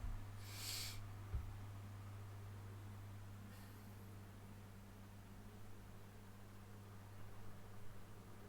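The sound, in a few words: pigeons cooing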